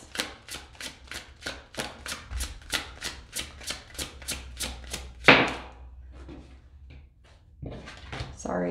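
Tarot cards riffle in a quick, even run of about a dozen crisp shuffles, followed by a louder slap of cards dropping and a few softer scattered taps, close to the microphone.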